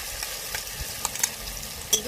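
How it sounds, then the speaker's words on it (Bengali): Spice paste frying in hot oil for a soybean curry with yogurt, a steady low sizzle with a few soft stirring scrapes and small clinks. "এবার যে আমি মশলাটা পেস্ট করে নিয়েছি সেই মশলাটা আমি দিয়ে দেবো তেলের মধ্যে।"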